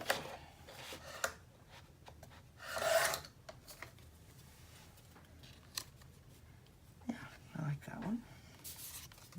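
Small paper pieces are cut from a sheet of cut-aparts with scissors in quiet, close, intermittent bursts of snipping and rustling.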